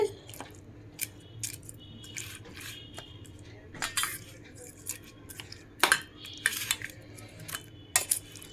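A spoon stirs mango roti chutney in a bowl, giving soft scattered clinks and scrapes against the dish, close and quiet, with irregular taps spread through the stretch.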